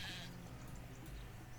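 Sheep bleating in the video game Craft The World, a soft wavering bleat at low level over faint ambient game background noise.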